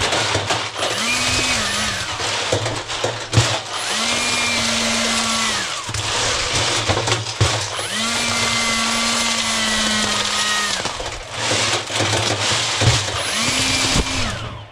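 A power drill fitted with a paddle mixer churns kidney beans to shell them, whining loudly in long sustained runs that ramp up and down, with brief pauses between bursts and steady blower-like noise underneath.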